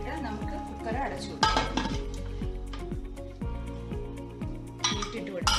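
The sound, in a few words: closing a pressure cooker lid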